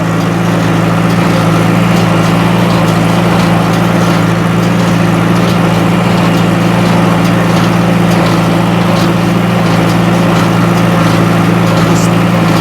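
A tractor-pulled hay baler drones loudly and continuously with a low mechanical hum and rattling machinery, unbroken throughout.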